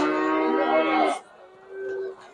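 At a Kyzylorda livestock market, a cow lets out one loud, drawn-out moo close by, which fades into quieter low lowing.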